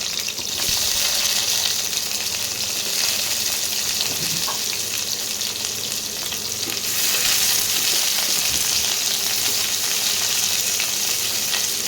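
Thickly cut onions frying in hot oil after whole-spice tempering, for a snakehead (shol) fish curry: a loud, steady, close sizzle with a constant hiss and small crackles throughout, no talking.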